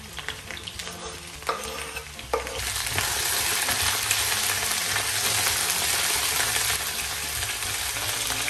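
Strips of onion sizzle loudly in a hot frying pan, a steady dense hiss that jumps up after a couple of stirring clatters and then holds at a constant roar until the end, with no talking.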